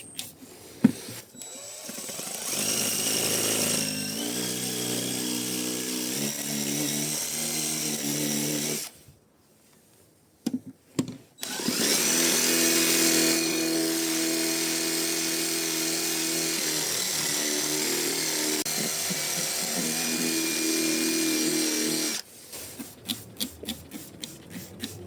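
A power drill used for cleaning tight crevices on a 13-year-old car runs loud and close in long steady stretches, cutting out briefly near the middle and stopping near the end, followed by a few scattered clicks and knocks.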